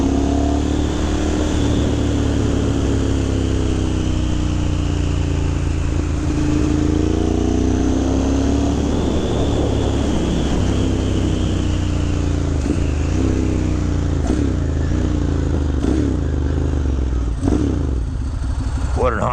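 A 2009 Ducati M1100 Monster motorcycle engine runs loud and steady while riding, with continuous mid-range engine drone, shifting pitch as it revs, and wind buffeting throughout.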